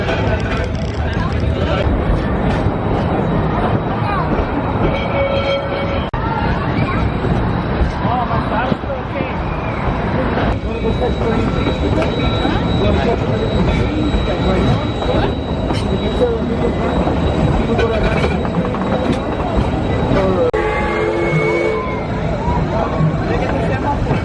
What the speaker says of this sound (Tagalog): We're gonna ride the train paikot ng park